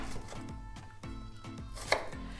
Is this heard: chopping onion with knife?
yes